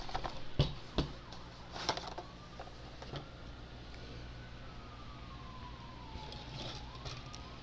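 An ambulance siren wails faintly in the distance, its pitch slowly gliding down, after a few sharp clicks and taps close by.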